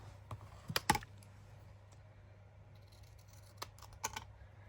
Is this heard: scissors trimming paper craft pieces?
yes